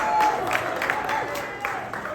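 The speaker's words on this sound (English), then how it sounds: "a big round of applause for Harvey Davidson" Audience applause at a 50th anniversary gala fills the room as a steady, moderately loud patter of many hands, with some voices mixed into the crowd.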